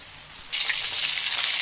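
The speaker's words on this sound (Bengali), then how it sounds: "এই যে ডিমটা এখন ভেজে নিচ্ছি" An egg fries in hot oil left over from frying eggplant, a close, steady crackling sizzle that swells louder partway through and continues without talk.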